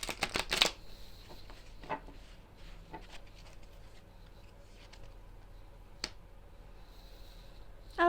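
Tarot cards shuffled by hand, a quick riffling burst up close at the start followed by softer scattered card slides and taps in a quiet room.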